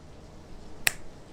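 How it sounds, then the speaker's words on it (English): A single sharp finger snap in the air, crisp and close, standing alone against a quiet background. "snapping my fingers in the air"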